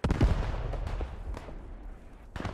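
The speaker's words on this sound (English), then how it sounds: "Oh, I'm getting shot at." In the World War II shooter game Squad 44, booming explosions and bursts of gunfire sound in a dense, rumbling battle mix, with a heavy blast at the start and another near the end.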